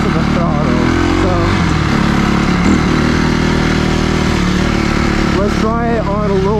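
A 250cc dirt bike engine revs in second gear as the throttle is rolled on, loud and close, its pitch climbing and dipping, with a rider speaking over the engine noise.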